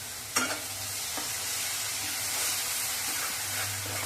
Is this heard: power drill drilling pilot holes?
no